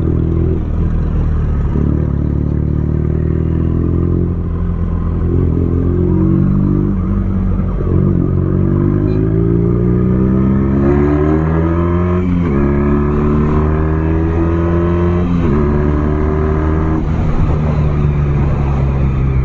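A BMW R nineT boxer-twin motorcycle engine runs steadily and loudly up close, with a deep rumble that rises and falls through several revs and a few light clattering ticks, and no talk.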